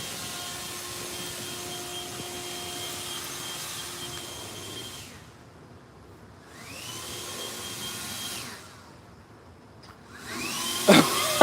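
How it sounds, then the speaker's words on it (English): A high-powered leaf blower blasts leaves out in bursts, a loud roaring whine that spins up and cuts off several times with quieter gaps between, ending with a brief clatter. "She's got this crazy high-powered blower"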